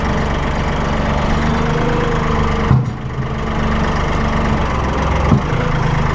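A Massey Ferguson 1835M or 1840M eHydro compact tractor engine idles steadily at low RPM, a close, continuous low diesel rumble with two brief dips in tone.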